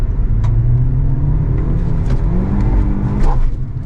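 A 2023 Hyundai Verna with a six-speed manual pulls away in first gear, its engine droning steadily from inside the cabin with a slight rise in effort near the end and no talking.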